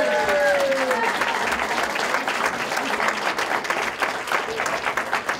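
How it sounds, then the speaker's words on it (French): An audience applauds campaign volunteers at a political speech, with sustained, fairly loud clapping from a crowd throughout and a voice audible briefly at the start. "je pense que vous méritez de vous applaudir vous autres même"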